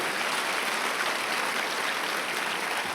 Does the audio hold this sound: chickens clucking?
no